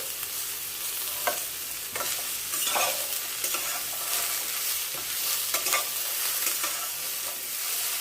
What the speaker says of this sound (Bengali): আর কিমাটা দেবো। একটু ভাজি এখন।